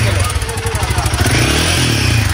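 A Royal Enfield Himalayan 450 motorcycle idles close by with its engine and exhaust pulsing, a loud, rapid throbbing thump under rough mechanical clatter, continuous throughout.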